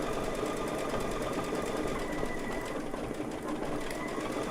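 Embroidery machine stitching out a flowered quilt block in Superior Magnifico polyester thread, a fast, steady mechanical whirring and rapid needle ticking, close and continuous without pause.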